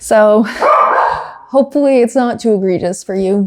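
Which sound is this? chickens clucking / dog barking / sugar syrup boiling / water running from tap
dog barking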